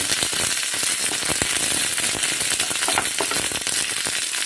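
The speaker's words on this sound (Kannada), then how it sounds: "ಈಗ ಬಿಳಿ ಎಳ್ಳನ್ನು ಹಾಕ್ತಾ ಇದ್ದೀನಿ. ಇದು ಒಂದು ಸ್ವಲ್ಪ ಅರ್ಧಂಬರ್ಧ ಹುರ್ಕೊಂಡು ಸಾಕು, ಆದರೂ ಸಾವ್ನಲ್ಲಿ ಬೇಗ ಚಟಪಟ ಅನ್ನುತ್ತೆ ಇದು." White sesame seeds splutter and crackle in a hot pan, a dense run of sharp pops and sizzles over a steady hiss, close and fairly loud with no talking.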